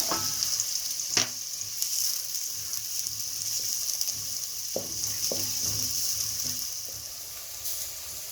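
Freshly added onions fry in a pan for githeri, giving a continuous close sizzle. A few scattered utensil knocks and scrapes sound over it, with no voices.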